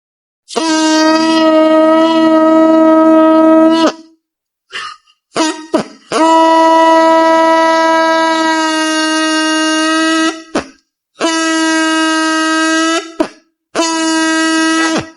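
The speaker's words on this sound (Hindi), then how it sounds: "तेजी से आपने फूंक मारी है, तो इसमें एक साउंड प्रोड्यूस हुई" A straw blown through forcefully gives a loud, sustained buzzing tone, repeated in several long blasts with short gaps and brief sputters in between, and no talking.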